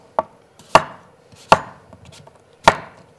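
A knife chops a green apple into thin julienne slices, four crisp sharp knocks at uneven intervals against a cutting board, close and distinct with faint small ticks between.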